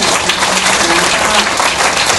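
A loud, dense burst of applause from a press conference audience honoring a charity donor, many hands clapping continuously and evenly across the whole moment, close and bright.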